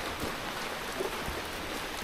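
Steady rain pouring down outdoors at night, a dense continuous hiss with scattered drops pattering nearby on surfaces, loud and unbroken, without talk.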